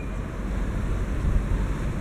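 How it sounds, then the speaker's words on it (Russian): Strong gusting east wind on a river embankment in Rostov-on-Don, a steady broadband roar with buffeting swells rumbling against the microphone, continuous and close with no speech. "И сильнейший восточный ветер."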